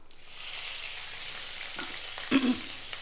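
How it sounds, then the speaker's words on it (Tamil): Finely chopped small onions, about 150 of them, frying in a pan with curry leaves, giving a steady close sizzle with a couple of brief stirring knocks near the end. "வெங்காயம் பாதி அளவு வதங்கட்டும்"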